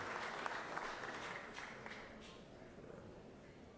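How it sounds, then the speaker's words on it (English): A chamber audience at a Georgia Senate session claps for the House Rules Chairman, a faint but steady round of applause that gradually thins out, with murmured voices underneath. "Please give him a round of applause."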